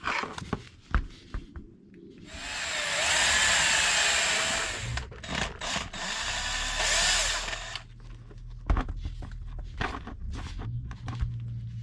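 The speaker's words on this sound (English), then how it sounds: "I'm going to use a small drill bit just to do some pilot holes" A power drill fitted with a small bit bores pilot holes for an RC car light kit install, whirring in two short bursts of a few seconds each amid handling clatter and knocks.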